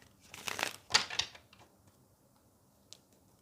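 A few quick papery riffles and taps of tarot cards being shuffled close by, clustered in the first second and a half, then near silence with one faint click.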